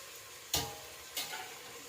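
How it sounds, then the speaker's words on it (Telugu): Mint, coriander and curry leaves fry quietly in a pan for egg biryani, a soft sizzle broken by two brief stirring scrapes. "ఇప్పుడు పుదీనా, కొత్తిమీర అలాగే కొంచెం కరివేపాకు వేసాం కదా, ఇది ఒక 2 మినిట్స్ ఇలా ఫ్రై చేయండి"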